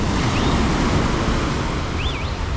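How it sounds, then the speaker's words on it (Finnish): Surf breaks on the beach at Amalfi, Italy, as a continuous loud wash of noise with some wind buffeting, and brief faint whistling tones ride on top. "nyt ollaan täällä Amalfin rannalla"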